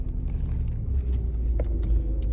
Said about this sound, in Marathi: गाडी चालवायला आमचे डॉन साहेब